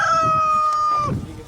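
A chicken in Honduras calls out close by in one drawn-out, clear crowing-like cry, with faint background murmur.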